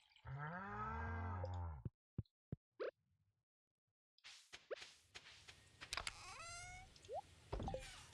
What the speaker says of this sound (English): let's check in with our cattle to get some nice milk from them